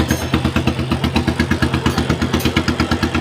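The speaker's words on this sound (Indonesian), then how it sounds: "ini akan saatnya kita pengetesan dinamo starternya yang kita pasang tadi ya. Nah, oke, saatnya kita starter." Custom Harley motorcycle cranking on a newly fitted starter motor, a steady rapid rhythmic chugging with repeated thumps, loud and close throughout with no voices.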